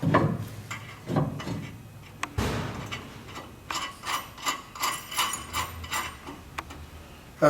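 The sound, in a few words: tightening bearing set screws during mill belt change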